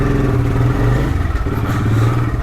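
A motorcycle without electric start, left standing overnight in the cold, is kick-started and revs; its steady mid-range engine drone runs close and loud throughout with a slight clatter.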